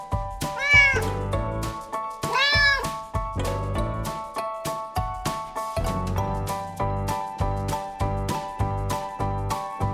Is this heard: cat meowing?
yes